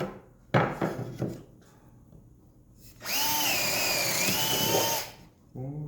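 A power drill bores a hole for a built-in electrical outlet, with short bursts of drilling and brief handling noises, then a steady two-second whine at close range.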